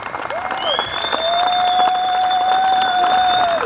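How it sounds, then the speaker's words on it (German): A crowd at an open-air rally on a town square in Freilassing applauds the police, with a broad wash of clapping and some cheering that builds and holds, while a sustained whistle-like tone rings over it. "gebt bitte einmal der Polizei einen anständigen Applaus"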